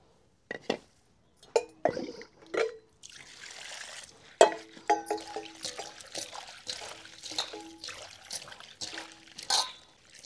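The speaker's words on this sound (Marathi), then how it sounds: "तरी पण कोबी बरोबर परत स्वच्छ धुवून घेऊ" Cabbage and potatoes get washed by hand in a vessel of water: intermittent splashes, drips and trickles with an occasional clink of a pot, close up and quiet, without speech.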